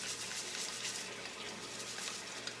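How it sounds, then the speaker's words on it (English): Water runs steadily from a tap into a sink while a masticating juicer is rinsed clean, a continuous close hiss with no talk over it. "Sorry about the water running."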